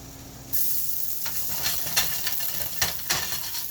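Shallot hits hot olive oil in a pan for shrimp scampi and bursts into a sudden bright sizzle that then holds steady, with occasional crackling pops and stirring taps.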